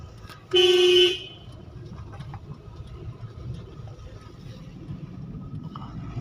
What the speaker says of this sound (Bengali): গাড়িটা যেরকম উঠলো, হর্ন মারো।